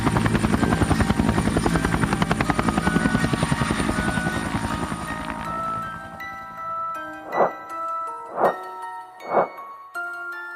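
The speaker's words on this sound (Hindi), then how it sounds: "बाबा का हेलीकॉप्टर नीचे लैंड हुआ।" A helicopter lands, its loud rhythmic rotor thumping for several seconds before fading and winding down. Three distinct bell-like dings then ring out one after another.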